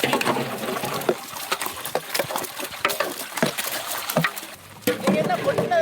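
Water splashes and sloshes in uneven bursts, close by, with a few sharp knocks and a steadier pour toward the end.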